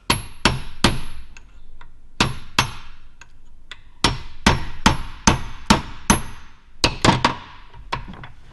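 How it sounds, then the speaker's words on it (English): Repeated sharp metal-on-metal hammer blows on a chisel driven into the edge of a suspension bushing during a Plymouth Fury GT restoration, about fifteen loud clanging hits in irregular bursts with ringing decay, no voices. "A few hits like that, and hopefully get a little sharp chisel and get right on the edge of the bush"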